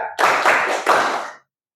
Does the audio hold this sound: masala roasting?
no